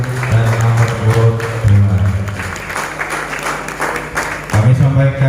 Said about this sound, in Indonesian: sekali lagi kita tepuk tangan buat para calon nomor urut 1 dan nomor urut